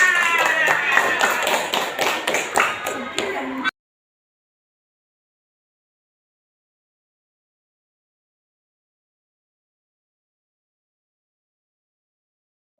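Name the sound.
applause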